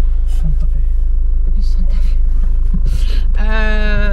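A steady low engine rumble and road hum from inside a moving car carry on throughout, with people talking over it and a brief tonal sound near the end.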